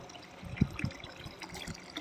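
Soft trickling water from a small grey tilted stone fountain, with gentle drips and splashes, quiet and close.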